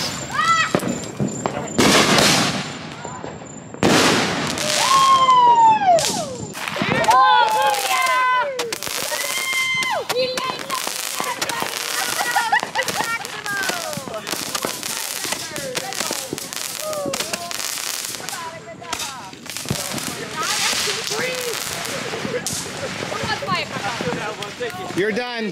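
Fourth of July fireworks crackle and boom continuously with whistling rising tones, loud and sustained, while people talk and call out over the display.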